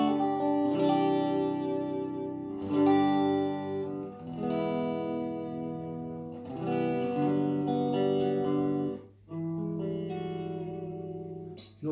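Clean Fender Player Stratocaster electric guitar with light reverb, strummed chords ringing out in sustained phrases with short gaps between them, close and clear with no talking.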